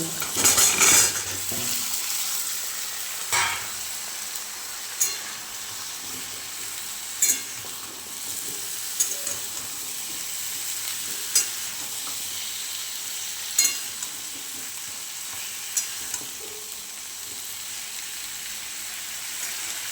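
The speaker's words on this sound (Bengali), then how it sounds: "আদা কাঁচা লঙ্কা পেঁয়াজ আর টমেটো দিয়ে মশলাটাকে ভালো করে ভেজে দেবো" Ginger, green chili, onion and tomato masala frying in a pan with vegetables such as beans, pumpkin and potato, a continuous sizzle broken by repeated sharp spatula knocks and scrapes against the pot, no talk.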